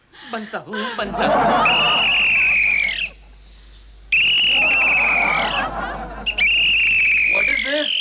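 A watchman's shrill whistle sounds in three long, loud blasts with short gaps between them, with chuckling voices and talk around and between the blasts.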